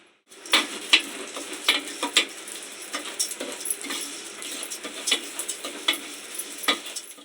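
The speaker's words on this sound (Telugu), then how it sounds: "మళ్ళీ కొద్దిగా నెయ్యి వేసుకొని పెసరపప్పును వేసుకొని కొద్దిగా ఫ్రై చేసుకోవాలి" Moong dal frying in ghee for vermicelli payasam, a steady crackling sizzle with repeated sharp scraping clicks of a spoon stirring the lentils in the pan, close and continuous with no voices.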